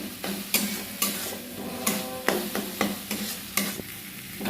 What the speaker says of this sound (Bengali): এক চামচের মতো মশলাটাকে দিয়ে ভালো করে একটু কষে দিই